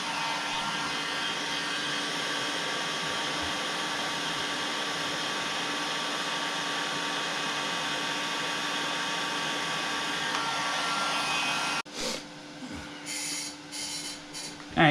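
A heat gun blowing hot air onto the wiring of a low-voltage light base, a steady close whooshing hum that holds evenly, then breaks off near the end into handling noises.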